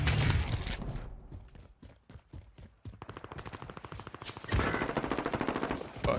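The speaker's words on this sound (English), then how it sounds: "We're getting shot from the roof, guys." Gunfire in Call of Duty Warzone, with rapid automatic bursts broken by short gaps, then a dense, loud stretch of sustained firing close by.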